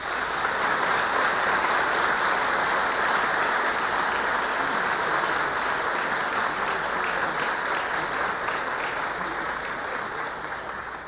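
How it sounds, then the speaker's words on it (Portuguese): Audience at a legislative honors ceremony in the Mato Grosso do Sul assembly claps steadily and densely for the whole stretch, a continuous wash of many hands that tapers slightly toward the end. "Recebam, portanto,"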